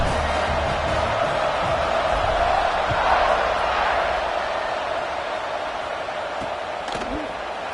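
A Louisville football stadium crowd roars during a kickoff, a dense, steady wash of cheering voices that swells slightly mid-clip and holds loud throughout.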